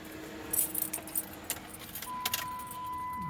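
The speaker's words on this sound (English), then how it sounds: "let's turn the key here" A key jangling and turning in the ignition of a 2004 Chrysler 300M with a four-speed automatic, heard as close, light metallic rattles followed by a steady electronic chime inside the quiet cabin.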